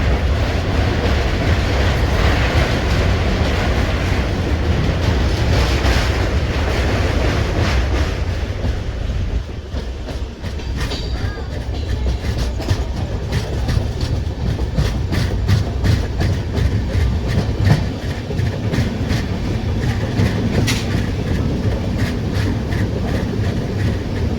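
A train on the Kolkata to Puri route rolls across the Kolaghat bridge over the Rupnarayan river, heard from aboard as a loud, continuous rumble with rhythmic clickety-clack of wheels on rail joints growing sharper midway.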